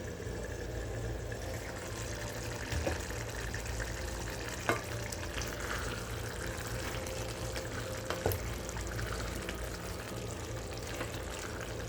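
Bell pepper kurma simmering in a pan, a steady low bubbling and sizzling texture with a few faint clinks, continuous and close, with no voices.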